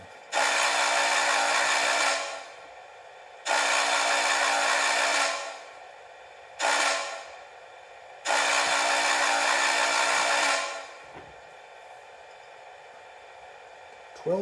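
A ScaleTrains N&W class J model locomotive sounds its grade crossing signal: two long whistle blasts, a short one, then a final long blast, loud and clear with no talk.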